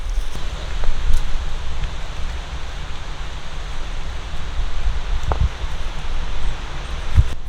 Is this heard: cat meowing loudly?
no